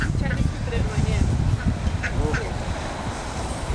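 Ducks being fed tomatoes, fruit and vegetables quack repeatedly at close range in a busy, overlapping chorus, with a person talking faintly underneath.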